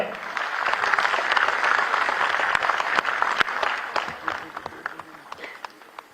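A crowd applauds at an education department ceremony in Dehradun where appointment letters are handed out. The dense, sustained clapping thins out toward the end into scattered individual claps.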